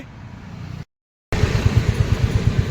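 A motorcycle setting off on a ride: after a brief silent break, its engine comes in close and steady with a regular low thumping pulse.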